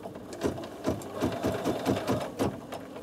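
Bernina 7 series sewing machine with embroidery module stitching a basting run, a steady rapid mechanical chatter of needle strokes at close range, no voices.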